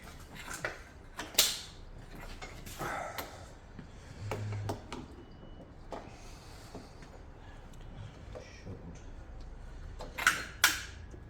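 On an Audi A3, the timing belt comes off its pulleys as they turn, with faint mechanical creaks, ticks and clicks scattered unevenly throughout and a few louder knocks near the start and end, with no talking.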